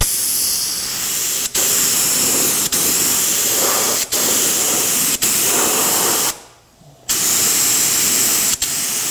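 A spray gun paints an F450 tool truck with a 7.3 engine, giving a loud, close, continuous hiss broken by short regular pauses and one longer gap.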